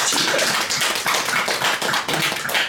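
A monk applauds during a Buddhist dharma talk, a brisk run of steady hand claps at close range that continues for a few seconds with no talking.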